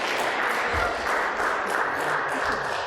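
Audience applause at an eighth grade bell concert in a church school, steady broadband clapping from a crowd filling the whole stretch without a break, fairly loud and close.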